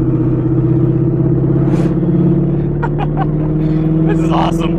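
An LS V8-swapped Mazda RX-7 on the move gives a loud, steady engine drone that runs through the whole stretch, with someone talking over it and a few brief clicks and rattles.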